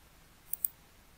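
Two quick, faint computer mouse clicks in close succession, crisp and near, while setting up a bootable USB drive from a Windows 10 DVD, with no talk.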